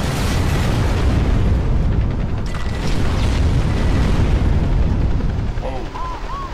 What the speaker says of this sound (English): Can I have some more explosions like that,